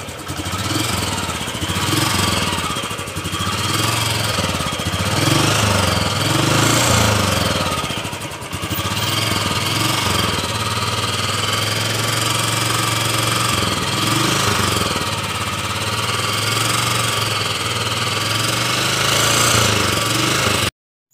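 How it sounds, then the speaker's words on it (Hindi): A Royal Enfield Classic 350 BS6 motorcycle with stock exhaust idles with a steady, loud thumping exhaust beat, running continuously close to the listener before cutting off abruptly at the end. "पहले इसका साउंड सुनिए कैसा है कंपनी का स्टॉक साइलेंसर का"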